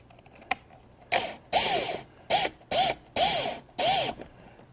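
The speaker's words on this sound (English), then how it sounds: "Now get this started and then finish it with the screwdriver." A hand screwdriver drives a screw on a Hobie Compass kayak, producing six distinct grinding, ratcheting bursts of about half a second each with brief pauses between, close and loud.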